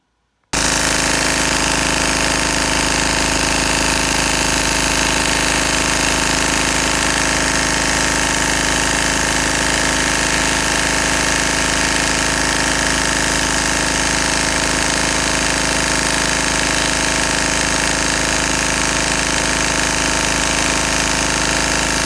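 A boat generator fitted with a Johnson raw-water pump runs under test right after an impeller change, giving a steady, loud mechanical drone with a constant pump whine that holds unbroken for the whole stretch, with no voices.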